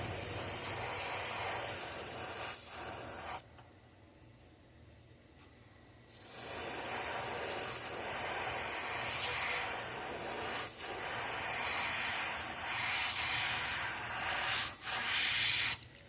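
Airbrush hissing steadily as it sprays paint onto a Mayan cichlid fishing lure, with a short pause midway before the continuous spray resumes, close and fairly loud.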